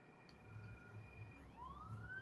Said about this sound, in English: there's a siren and I fear they're coming this way